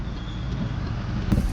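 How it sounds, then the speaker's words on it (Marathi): Highway road traffic heard from a vehicle, a steady low engine and road rumble with a passing vehicle swelling slightly near the end, no voices. "आज तर इथं ट्रॅफिक ट्रॅफिक आहे खतरनाक ट्रॅफिक आहे"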